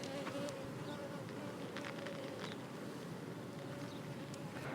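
Soft, continuous buzzing of many honey bees on hive frames during queen replacement, a steady low drone with occasional louder passes of individual bees nearby.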